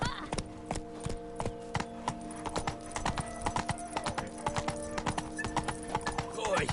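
Roach, a horse in The Witcher 3, gallops with a rapid, even clip-clop of hooves while a voice speaks partway through, and a whinny comes near the end.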